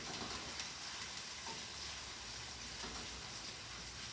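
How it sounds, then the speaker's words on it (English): Onions caramelise in a frying pan with a dense, steady sizzle and crackle, soft and continuous without pause. "I like to caramelise the onions first, because the flavour of the caramelised onion goes through the whole thing"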